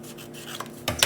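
A collage house floor piece is trimmed to fit, with faint rubbing that ends in two short, sharper rasping cuts close by.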